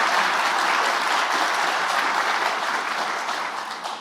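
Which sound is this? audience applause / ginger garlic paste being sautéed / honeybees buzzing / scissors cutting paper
audience applause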